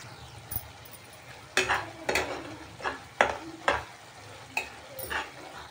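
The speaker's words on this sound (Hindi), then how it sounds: "देखिए हमारा मसाला अच्छे से भुन गया है" Masala spice paste frying in a pan, with a low sizzle under repeated scraping strokes of a spoon. The stirring comes in irregular bursts, close and fairly loud.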